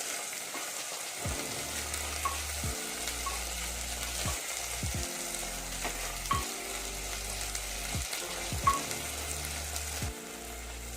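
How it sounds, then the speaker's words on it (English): Rajma curry paste fries and is stirred in a pan over a high flame, giving a continuous soft sizzle broken by repeated scraping strokes and occasional clinks, fairly quiet and without speech. "I have put the flames a bit high and have kept on the stirring"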